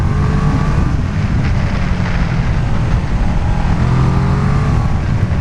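A Kawasaki ER6n motorcycle engine drones steadily while riding, a continuous loud rumble heavy with wind noise, heard from the rider's position with no clear pauses or gear changes.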